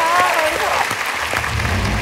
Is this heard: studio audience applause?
yes